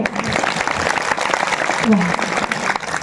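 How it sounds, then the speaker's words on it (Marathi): An audience at a Marathi kirtan claps loudly together, a dense, continuous burst of applause lasting the whole few seconds, with a voice faintly audible underneath. "एकदा माता माऊल्यांनो आपण जोरदार टाळी वाजवायची"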